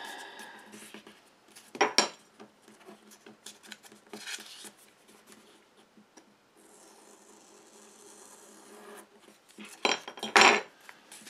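Scissors snipping paper while cutting strips for a bird-pattern iris folding card, a few sharp isolated snips and rustles at a quiet tabletop, with faint handling noise between.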